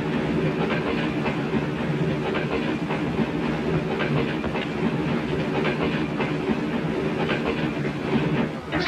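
A train rolls along the rails with a continuous rumble and rhythmic clickety-clack, loud and close, plus a faint hiss underneath.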